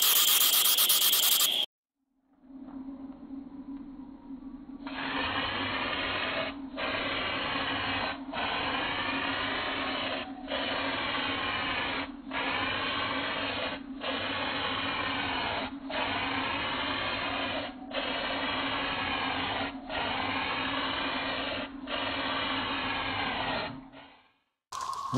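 Rattle can of automotive-grade primer hissing in a long steady spray, broken by short regular pauses between passes, close and moderately loud after a brief shake at the start.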